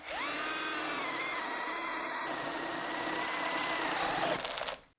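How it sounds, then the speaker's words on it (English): A power drill runs continuously for several seconds with a loud, gritty whine as a 1-inch spade bit bores into a pine 2x4, then cuts off abruptly. "that was just with a 1-inch spade bit in pine"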